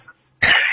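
A phone caller coughs hard once after a brief quiet gap, the harsh burst loud and close and running on to the end of the clip with no talk over it.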